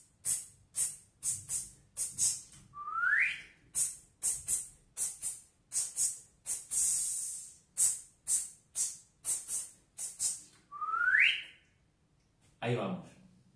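A human whistle performs a rhythmic pattern of short, sharp repeated notes, broken twice by rising upward-swooping tones and ending with a final burst, heard up close and alone.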